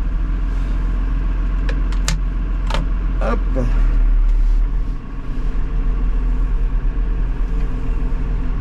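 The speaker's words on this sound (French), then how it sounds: "on monte pas trop haut non plus en régime parce que moteur froid" A Massey Ferguson 6270 tractor engine idles cold at low revs, a steady loud diesel rumble running throughout, with a few brief squeaks and clicks over it and a short spoken word.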